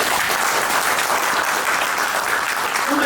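An audience at an offline training event applauding on request, a dense, steady burst of clapping that fills the room at close range and holds evenly throughout.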